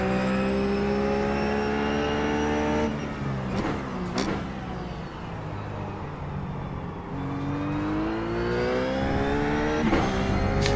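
A race car engine in the iRacing sim at Motegi at night, revving loudly and steadily, with gear shifts and rising and falling pitch as the car accelerates and brakes through corners. No talk.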